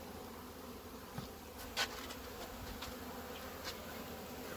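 Honey bees buzz around a hive frame during a post-winter colony rescue, a faint steady drone with a few individual bees flying close past the ear.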